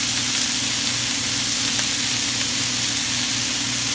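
Chicken and rapini fry in a skillet over medium heat, giving a steady, dense sizzle that holds loud and even throughout, close up and with no voices over it.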